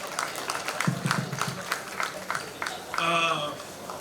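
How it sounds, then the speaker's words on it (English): Scattered clapping at a film awards ceremony for Vivek, individual claps audible in a loose rhythm, followed by a person beginning to speak as the applause thins. "A round of applause for Vivek, guys."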